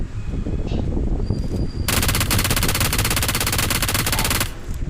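Bursts of automatic rifle fire in the PUBG Mobile battle royale game, starting sparse and then becoming a loud, continuous rapid rattle of shots for several seconds before stopping.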